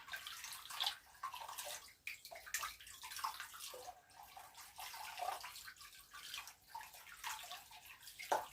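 Water runs and splashes steadily as ink is rinsed off a printer ink cap under a tap, a continuous close hissing flow with uneven spatters and no talk.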